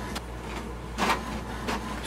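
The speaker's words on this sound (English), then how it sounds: "it sends a request for the printer to print a page" An HP Deskjet 3630 All-in-One inkjet printer prints a network configuration page, giving soft mechanical whirs and a louder feed clunk near the middle, close by with no talking.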